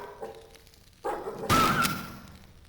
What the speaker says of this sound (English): The only enemy in this map is this hellhound mutant dog thing.